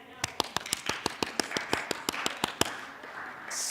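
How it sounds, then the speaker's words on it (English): A small group at a dharma talk gives a brief round of clapping: about fifteen crisp, evenly spaced claps in a steady rhythm, close and clear, fading out after a few seconds. "Can we have an applause, please?"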